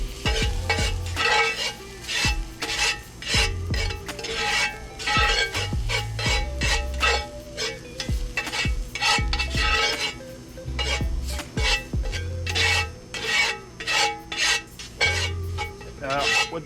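Shallots, red wine and about two tablespoons of flour being stirred together in a pan, a steady sizzle with repeated scraping and rasping strokes of a utensil against the metal, loud and close throughout with no talking.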